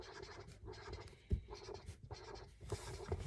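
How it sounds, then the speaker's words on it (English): A pen scratching dots onto paper, a series of short taps and scrapes in an uneven rhythm with a few sharper strikes, close and quiet with no speech. "I'm going to go ahead and draw my 8 dots"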